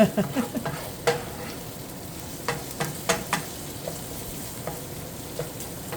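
Ground beef sizzles softly in a pan, with intermittent scrapes and clacks of a utensil stirring it.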